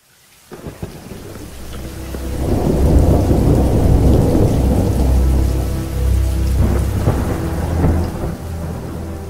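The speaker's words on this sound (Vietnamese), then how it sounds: "Chỉ mới giữa trưa đã báo hiệu một trận mưa dữ dội sắp trút xuống." A violent midday thunderstorm brings heavy rain pouring steadily on surfaces, with deep rolling thunder rumbling loudly through it and swelling again toward the end.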